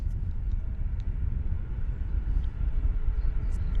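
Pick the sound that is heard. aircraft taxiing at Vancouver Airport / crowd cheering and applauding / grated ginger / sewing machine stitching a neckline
aircraft taxiing at Vancouver Airport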